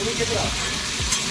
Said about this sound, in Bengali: এবার সুন্দর করে মিক্সি করে কষাই।